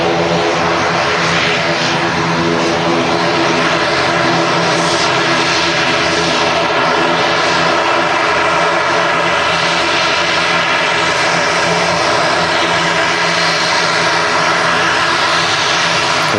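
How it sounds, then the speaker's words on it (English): A Turkish airliner bound for Istanbul roars loudly and continuously as it rolls down the runway at Manchester Airport, the heavy engine drone sustained throughout. "the Turkish out to Istanbul's rolling on the runway"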